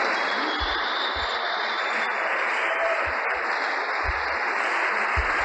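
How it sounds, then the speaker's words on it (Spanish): A church congregation applauds during a Spanish-language sermon, giving dense continuous clapping that sounds somewhat distant and even, with occasional low thumps underneath. "A ver, un aplauso."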